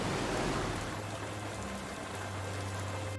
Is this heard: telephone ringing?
no